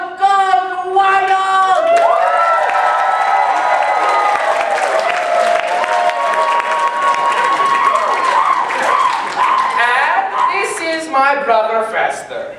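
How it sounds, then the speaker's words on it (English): A stadium-style crowd cheers and applauds loudly after a touchdown in a football game, a dense, sustained roar of clapping and shouting voices that swells and holds for about twelve seconds. "Touchdown! The crowd goes wild."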